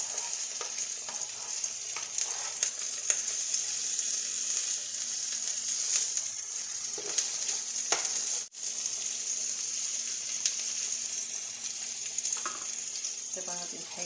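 Meat frying in a mix of butter and oil for a chicken lentil stew gives a steady, close sizzle with a few stirring scrapes and clinks throughout, and no talk over it.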